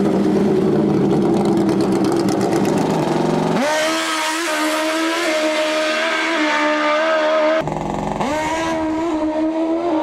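A Pro Mode drag racing car roars down the track, loud and close, its engine note climbing in pitch with abrupt breaks as it shifts up through the gears.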